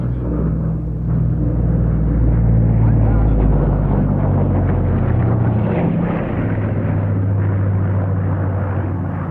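A Lockheed C-121 propeller airliner drones past at an air show at Nellis, a loud, steady low rumble that swells and fades slightly over several seconds.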